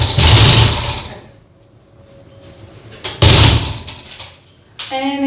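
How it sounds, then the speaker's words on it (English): An old door opens loudly, with two harsh bursts of creaking and scraping separated by a quieter stretch. A brief tonal squeal follows near the end, close and prominent. "the loud noise the door makes"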